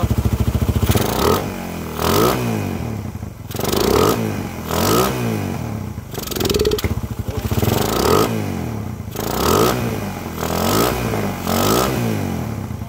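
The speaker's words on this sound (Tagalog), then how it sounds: "Rev natin mga kabro." A Raider 150 motorcycle engine, running without its cable and with the piston cover off during an overhaul, revs repeatedly in steady bursts, rising and falling about every second and a half. It is loud and close, with a mechanical clatter underneath and no talking.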